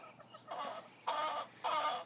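Three short bursts of hen clucking, close and fairly quiet, spaced about half a second apart over a faint background hum.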